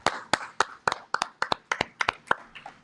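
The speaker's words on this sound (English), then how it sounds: "Everybody give Kaja a round of applause." About a dozen sharp, evenly spaced hand claps ring out clearly in a room at a class session, a small round of applause with no talk over it.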